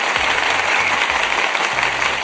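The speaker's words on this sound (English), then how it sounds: "I'm going to have to give you applause for this" A short burst of steady, dense applause, as from a crowd clapping, with faint low humming sounds underneath.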